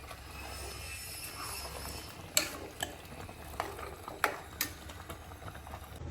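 Masala frying in a pan while being stirred, a soft low sizzle with several sharp scraping and clinking strokes of a spoon against the metal, close by, no talking.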